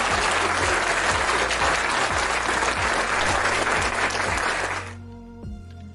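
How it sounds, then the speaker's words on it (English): Audience applause at a San Francisco 49ers talk event, loud continuous clapping from a crowd for about five seconds before cutting off to a quieter room tone. "Let's give Linda a round of applause."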